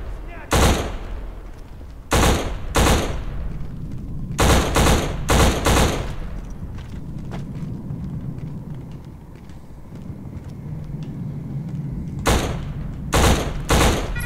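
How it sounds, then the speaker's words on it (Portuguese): Gunfire in an Xbox shooter game on hard mode: several loud, sharp bursts of shots in clusters near the start and again near the end, with quieter game ambience and scattered distant pops in between. "o bagulho levou um tiro e não explodiu"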